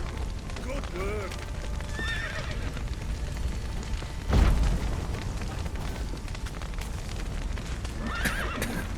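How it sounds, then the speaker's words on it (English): Horses whinny several times with clip-clopping hooves amid action in The Witcher 3, a heavy boom bursting out midway, with shouting voices in the mix. "The horses!"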